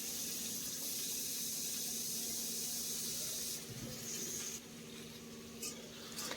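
Cut potato pieces hit hot oil tempered with a bay leaf and spices for a spinach ghonto, giving a loud, continuous sizzling hiss with a few stirring knocks partway through.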